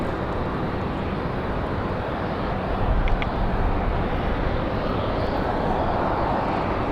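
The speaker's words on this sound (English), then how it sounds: "So this one off to Miami, the 737." A Boeing 737 airliner departs Raleigh-Durham International for Miami, its engines a loud, steady, broadband roar that holds constant for several seconds with a slight swell midway.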